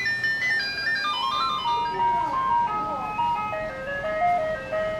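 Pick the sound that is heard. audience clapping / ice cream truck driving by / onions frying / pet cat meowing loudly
ice cream truck driving by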